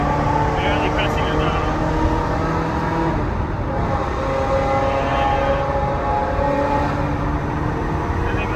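A supercar cruises on light throttle, its engine a steady low drone with road and cabin noise filling the background while people talk over it.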